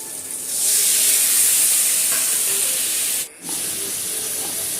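Loud, continuous hissing sizzle of frying in hot oil, briefly dipping for a moment before resuming steadily.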